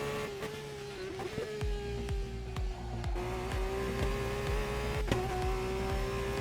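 An Alpine hypercar engine in a racing video game holds a steady, buzzing drone with a strong tonal whine, broken by regular clicks and small pitch changes.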